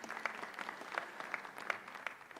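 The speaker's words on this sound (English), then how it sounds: "let's give her another round of applause" Scattered audience applause at a national wage bill conference, with a handful of distinct claps standing out over a soft, thin patter, fairly quiet and somewhat distant.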